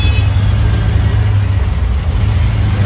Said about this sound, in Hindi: यार इतना ट्रैफिक,